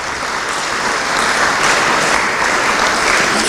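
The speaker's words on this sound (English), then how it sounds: "Give yourselves a round of applause" Steady, dense applause from a crowd at a foundation awards ceremony, loud and even throughout with no voices rising above it.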